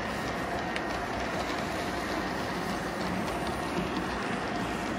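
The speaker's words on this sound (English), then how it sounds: "Now you get to see it with a couple Santa Fe diesels." Model train pulled by a pair of Santa Fe diesel locomotives rolling along a home layout, a steady continuous rumble with faint rail clatter, even and unbroken throughout, no voices.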